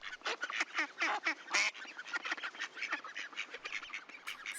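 A flock of ducks quacking noisily in a duck yard, with dense, overlapping rapid quacks and honks that make a busy, squabbling chorus, close and clear with no voices.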